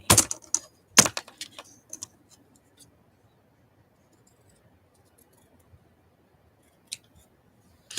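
Several sharp snips of scissors cut paper in quick succession while making a journal, then a quiet pause broken by a couple of isolated snips.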